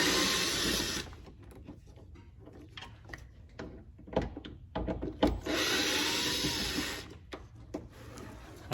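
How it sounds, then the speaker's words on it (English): Tools working on bolts holding the DME/ECU of a BMW E46, a series of close metallic clicks and ratcheting knocks framed by bursts of broadband rubbing noise at the start and middle, with no talk. "And then undo these bolts"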